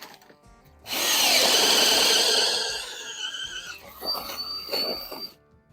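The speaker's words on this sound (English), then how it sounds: "So our next thing to do is to drill a hole." A power drill whines loudly and steadily for a few seconds, then slows into rougher grinding bursts as it bores through a wall, then stops.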